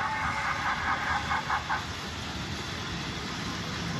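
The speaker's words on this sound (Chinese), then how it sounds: "有小火车开过来了" An antique-style small amusement park train approaches at a lakeside park in Shenyang, its steady broadband rumble running through the whole stretch, with a faint tonal ring early on.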